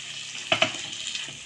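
Mixed vegetables with green peas sauté in a pan, a soft steady sizzle broken by two quick stirring clinks near the middle, close and unaccompanied by talk.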